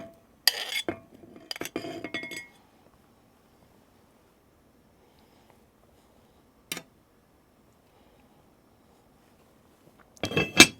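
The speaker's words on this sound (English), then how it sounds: "Lid on and into the oven." A metal lid clinks onto a pot of meatballs simmering with dried fruit and juices, a few sharp close clatters and taps with quiet gaps between them and a final louder clank.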